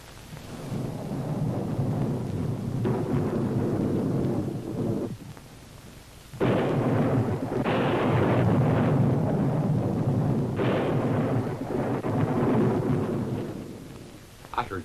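Thunder rumbles through a thunderstorm with rain, several deep rolling booms swelling and fading over a steady wash of rainfall, loud and close without any talking.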